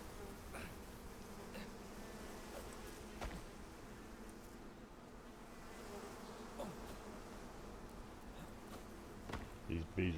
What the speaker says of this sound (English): These bees are so aggravating.